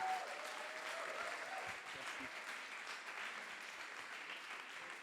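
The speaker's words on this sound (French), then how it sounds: "Donc je voudrais qu'on les applaudisse très fort." Audience applause at a data science demo day in Paris, greeting a project team as they are called up; steady, dense clapping from a room of people, moderately distant and continuous throughout.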